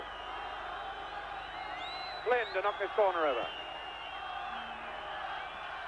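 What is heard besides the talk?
football stadium crowd buzzing after an early goal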